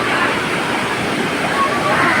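Hathani Mata waterfall with people bathing, a loud, steady roar of falling water close by, with a faint wash of voices blended into the constant rush.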